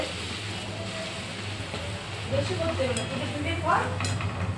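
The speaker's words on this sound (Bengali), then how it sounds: "লাল লাল করে একটু ভেজে নেব" Oil sizzles steadily in a pan as puffed items fry, a low continuous crackling hiss close by, with a few light utensil clinks near the end.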